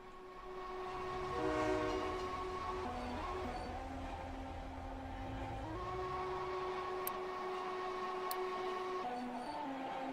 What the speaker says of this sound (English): Wee little hydrogen train.